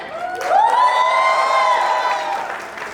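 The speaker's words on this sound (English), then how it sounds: "Guys, please cheer up for us." Audience at a large stage event cheering and whooping loudly, a surge of shouts and high voices rising after half a second and holding steady for about two seconds before easing off.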